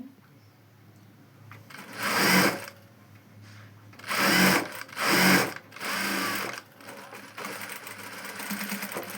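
Sewing machine stitching lining onto a long frock, running in four short bursts of a few seconds each with quiet pauses between, close and moderately loud.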